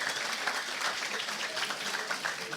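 A workshop audience applauds, steady dense clapping from many hands at moderate distance, with no talk over it.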